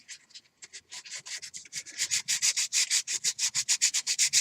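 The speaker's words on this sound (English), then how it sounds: "We'll sand some more." Hand sanding a wooden part of a model rocket, a close run of rhythmic rasping strokes that start light and sparse, then grow louder and faster, alone without talk.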